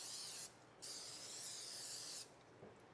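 Spraying with a hand sprayer: a steady close hiss, briefly interrupted, then resuming for over a second before stopping, fairly faint overall.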